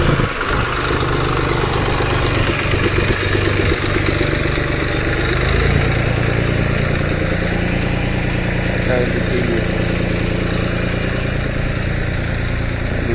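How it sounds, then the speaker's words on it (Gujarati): A tractor engine runs steadily throughout at close range while unloading soil at a work site, a continuous loud low rumble with no pauses. "ટ્રેક્ટર ખાલી કરે છે અંદર।"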